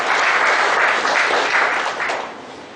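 Audience at a one-day GST seminar inauguration breaks into dense, steady applause that holds strong for about two seconds, then thins and fades toward the end.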